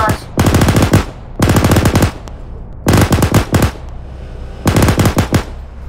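Coaxial machine gun firing in Arma 3, four loud rapid bursts of rattling shots, each about a second long with short pauses between.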